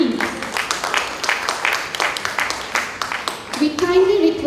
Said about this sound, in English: Once again, a huge round of applause for them as they take their seats